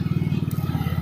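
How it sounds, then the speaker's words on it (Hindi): A motorbike rides along in strong wind. The engine makes a continuous low, pulsing rumble and is overlaid with buffeting wind noise, loud and close, with no talk. "इस समय हम लोग बाइक पे हैं और बाइक बहुत आराम से इस समय चल भी रही है"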